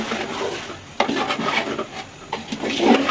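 Chicken biryani being stirred in a pot: scraping, rubbing utensil strokes against the pot with a few sharper knocks, close and steady without speech.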